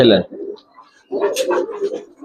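Pedigreed Giribaz racing pigeons, silver and other varieties, at a sale, giving low soft coos in two short bursts separated by a quiet gap, with a faint voice nearby.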